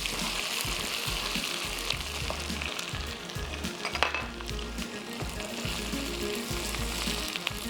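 Garlic ginger paste sizzles and fries steadily in a hot pan while cooking Bihari chicken, a dense continuous crackle close by with faint stirring, no talking.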